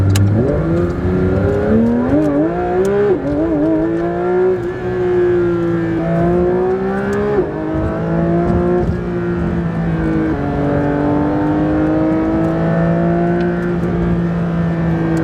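Brand-new Porsche GT3 RS engine revs loudly and continuously, its pitch climbing and dropping in repeated sweeps as the car accelerates and shifts, with no talking.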